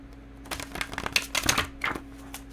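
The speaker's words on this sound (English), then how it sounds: "Shuffle this one more time." A deck of tarot cards is shuffled by hand, giving quick bursts of crisp riffling and flapping over a low steady hum.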